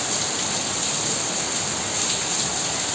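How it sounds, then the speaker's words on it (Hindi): Dense, steady hiss of heavy rain pouring down, loud and continuous with no pauses or voices. "अब बारिश का साउंड कितना अच्छा लगता है।"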